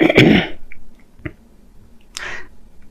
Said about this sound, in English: I'm having to clear my throat